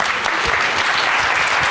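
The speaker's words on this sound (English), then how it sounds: "Give a round of applause." An audience claps steadily at a competition event as a team from Kenya is introduced, a dense, continuous burst of applause filling the room for under two seconds without talk on top.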